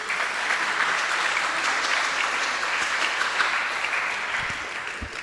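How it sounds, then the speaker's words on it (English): Applause from a gathered audience after a class at a japa retreat in Houston: a steady, fairly soft wash of many hands clapping that holds evenly throughout and tapers slightly at the close. "So let's give a big applause."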